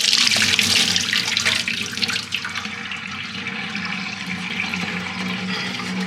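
Water drains from soaked dried tomatoes in a commercial kitchen sink, a steady close splashing pour that is loudest at first and then settles into a continuous trickling flow.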